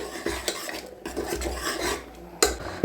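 A spoon stirring salt into a pot of upsaaru, a Karnataka saaru, with repeated metallic scraping and clinking against the pot, close and fairly loud, ending with a couple of sharper knocks.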